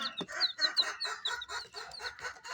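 Young turkey and chicken chicks on a poultry farm, fed on rice, chirp and cluck in a busy overlapping chorus. The calls are fairly close, with faint background noise and no talking.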